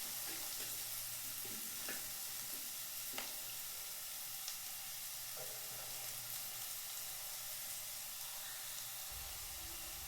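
Turmeric powder sizzling in hot oil for a Kerala-style fish curry, a steady close hiss and crackle with faint stirring clinks, no voices.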